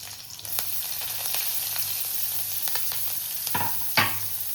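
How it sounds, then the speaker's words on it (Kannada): Chilli and onion frying in a pan for a tempering make a steady close sizzle, broken by a few scraping stirs and a louder clank of the spatula near the end. "ಇದನ್ನು ಸ್ವಲ್ಪ ಫ್ರೈ ಮಾಡೋದು ಚೆನ್ನಾಗಿ"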